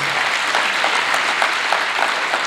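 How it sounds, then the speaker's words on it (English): Steady applause from a crowd at a school matric awards ceremony, continuous and fairly close, with no voices over it. "a nice round of applause?"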